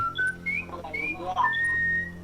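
A game character in Serious Sam 3 whistles a tune, with clear pitched notes sliding up and down over a steady low game hum and faint background talk.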